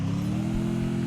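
A car engine in a video game, a steady low droning hum at a constant pitch, close and fairly loud throughout the short moment.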